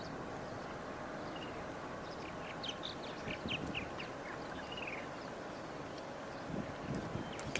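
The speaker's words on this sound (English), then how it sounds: "Hear the purple martins a bit." Purple martins chirping and gurgling faintly in the distance over steady wind and outdoor background noise during a bird tour.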